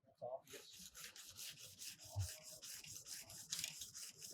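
A metal car part, due to be copper-coated again, is hand-sanded in a workshop, a rapid steady rhythm of gritty rubbing strokes close up, loud and continuous, with no talk over it.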